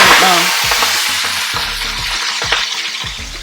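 Pak choy drops into a very hot wok and fries with a steady, loud sizzle, while a utensil scrapes and clanks against the pan in an uneven stirring rhythm throughout.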